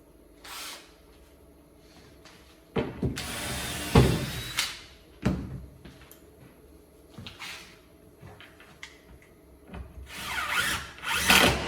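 A CNC router fitted with a normal drill bit boring into material, intermittent bursts of whirring drilling and grinding noise over a low background hum, close, with quieter gaps between passes and no talk.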